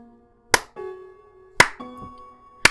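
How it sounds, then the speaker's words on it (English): Three sharp, separate claps sound about a second apart over a soft, sustained tone from Undertale gameplay. Each clap is quick and crisp, with quiet gaps between them. "Give it a clap, guys."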